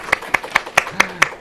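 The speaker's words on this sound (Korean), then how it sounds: "함께 이렇게 자신의 이야기를 나눠준 분들에게 박수로 조금 고마움을 표현해봤습니다." A small group in a Korean church youth leaders' training session claps in a brief, evenly spaced rhythm of about seven sharp claps, close and fairly loud, with no talk over it.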